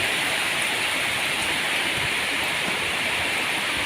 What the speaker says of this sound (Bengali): এই দেখো বৃষ্টি পড়ছে দারুণ লাগছে বৃষ্টিটা